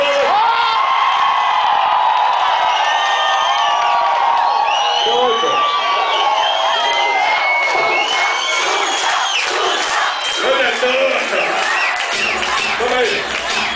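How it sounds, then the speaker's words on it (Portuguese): A crowd cheers, whoops and shouts loudly and continuously for a contestant at a Brazilian dance contest, with dense voices filling the whole stretch and speech mixed in. "Quem gostou da Xuxa, salva de palmas."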